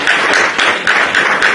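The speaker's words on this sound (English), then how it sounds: "Have a round of applause for you." Audience applause after congratulations at a Coinspace gathering, loud and close, with dense clapping pulsing in waves throughout.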